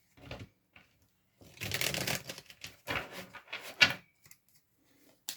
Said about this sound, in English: Let's have a quick shuffle.